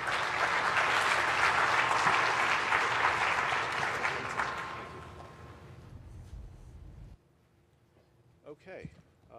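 Audience applause welcoming a lecture speaker, loud sustained clapping from a crowd that fades out over several seconds, followed by quiet room sounds and a brief voice.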